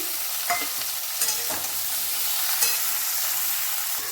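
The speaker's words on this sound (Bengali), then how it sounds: "এবারে এর মধ্যে কাটা ঢ্যাঁড়স মিলিয়ে দিচ্ছি।" Chopped okra and tomato stir-fried in a pan, a constant loud sizzle with repeated scraping stirs at close range and no talking.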